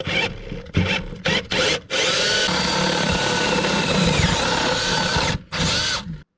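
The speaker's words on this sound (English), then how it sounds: "this is where I need to drill up" A power drill with a 90-degree adapter and 3/4 inch bit whirs in short bursts, then runs in one long sustained grind drilling up through a wall before stopping and starting briefly again.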